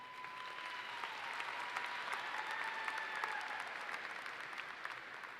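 Steady applause from a large audience at a spring university commencement ceremony, a dense continuous wash of clapping at moderate, slightly distant loudness with no speech over it.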